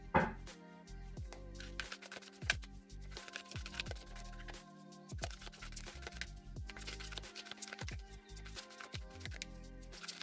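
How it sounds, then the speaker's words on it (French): A tarot deck being cut into three piles, with dense papery riffling and quick card snaps in an irregular rhythm, close and fairly quiet, with no voice. "je vais couper le tarot en 3."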